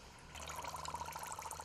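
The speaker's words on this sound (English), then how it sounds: "you can actually both see and hear them filling up with water" Groundbait pellets pushed under water soak it up with a faint, continuous fizzing and crackle of tiny bubbles, close and alone.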